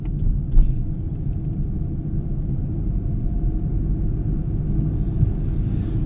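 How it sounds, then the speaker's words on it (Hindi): Manual car driving in third gear at roughly 1500 to 2500 RPM, a steady low engine and road rumble heard from inside the cabin, continuous and even with a brief bump early on. "अब हमने 3rd गियर शिफ्ट कर दिया।"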